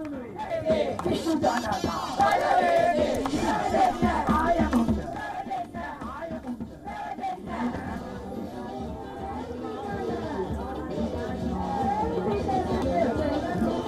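Crowds on the streets of Colombo celebrate after a president's resignation, with a dense mix of shouting, chanting and hubbub that stays loud throughout and is partly overlaid by talking.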